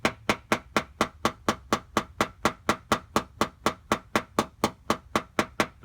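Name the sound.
hammer tapping out a car dent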